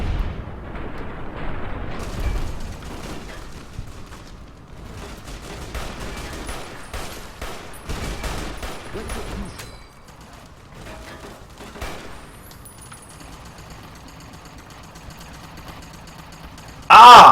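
Anti-materiel rifles fire in a Fallout: New Vegas battle against Legion troops, a dense run of heavy booming shots and blasts that rolls on for many seconds, thins toward the end and closes with a sudden loud burst.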